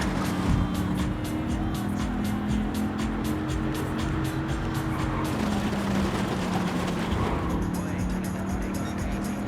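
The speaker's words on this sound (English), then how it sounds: "I'll just continue running this race with my cash money Viper." A Dodge Viper race car in Gran Turismo 7 drones through a loud, sustained engine roar with shifting pitch and brief tire squeal, accompanied by a faint voice.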